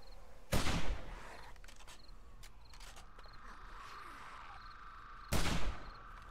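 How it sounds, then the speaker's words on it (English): Two sharp, loud rifle shots about five seconds apart ring out from a hunting rifle in the survival game 7 Days to Die, each followed by a short decay, over a low ambient bed with faint insect-like chirps. "Let's go to the hunting rifle."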